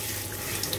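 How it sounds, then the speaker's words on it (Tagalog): Tap water runs steadily into a sink as lettuce is rinsed, a continuous close hiss and splash with a few light drips and ripples near the end. "Ito na yung lettuce. Banlawan lang to."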